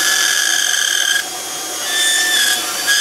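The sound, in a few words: dental handpiece trimming excess from temporary bridge for reline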